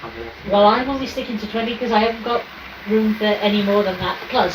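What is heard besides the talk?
No everyday noises stand out.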